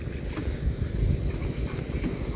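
A small boat moving along a village waterway on a fishing trip carries a low, steady rush of water and motion, close and continuous, roughened by gusty wind buffeting.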